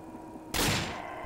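A single loud blast of gunfire in Garry's Mod follows a brief quiet hum. It is a sudden close burst with a ringing tail that trails away over half a second.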